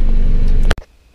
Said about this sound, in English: I'm gonna go ahead and shut the car off